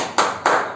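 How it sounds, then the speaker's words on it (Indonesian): Two sharp, loud claps a beat apart from a small group doing a spirited rhythmic 'spirit clap' during a training session, with no talk over them. "Tepuk tangan semangat."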